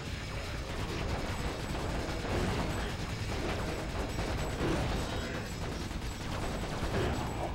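A bolt crank turns in the PS2 game Ratchet: Deadlocked, giving a dense, continuous mechanical ratcheting clatter with rapid gunfire-like bursts, loud and without pause.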